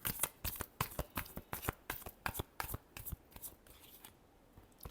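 Tarot cards being shuffled by hand, a quick series of crisp riffling snaps and flutters in close succession, close and fairly quiet, thinning out toward the end.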